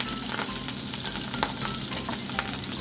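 Garlic and onion sauté in hot oil in a pan for drunken pork, a close, steady crackling sizzle with small popping bursts and no voices.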